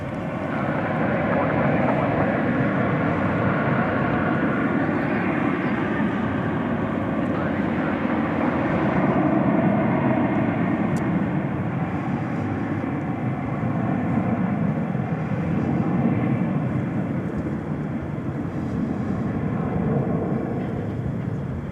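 An American Airlines jet bound for Boise takes off at night from runway 18 left at Dallas Fort Worth, a continuous low, rumbling engine roar that stays steady and fairly near for the whole stretch, with no voices.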